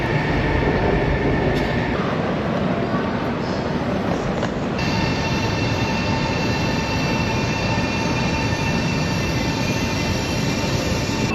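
A Chinese high-speed train pulls into a station platform with a loud continuous rushing roar and rumble, a high steady whine over it and a faint squeal of wheels, with no talking.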